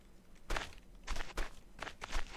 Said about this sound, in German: Die Schritte sind mir zu laut.